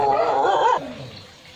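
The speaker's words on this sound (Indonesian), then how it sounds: "ini ada tamu datang, pada anjing gonggong" Dogs barking at guests arriving at a house: a loud, overlapping burst of barks and yelps that breaks off abruptly and leaves quieter background noise.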